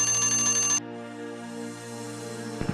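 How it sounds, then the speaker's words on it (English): A bell rings steadily and loudly for under a second, then cuts off. A faint ringing tail stays in the background, and a short knock comes near the end. "We travel by a rickshaw."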